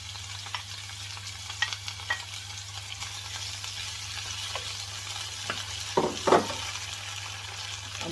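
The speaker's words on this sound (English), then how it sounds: "I'm just going to add the leek to saute" Chopped leeks sautéing in a pan for a casserole, a soft steady sizzle with a low hum beneath, broken by occasional scrapes and stirring clicks.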